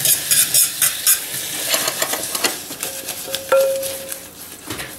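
Apples cooking down with brown sugar in a frying pan into a candied glaze, with soft sizzling and stirring scrapes, a few light utensil taps and a brief ringing pan tone near the middle.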